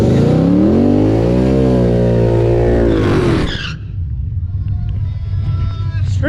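An all-motor street-model car at Race Wars revs hard up close: a loud, rising engine whine climbs and holds for about three seconds, then cuts out into a lower, rumbling idle.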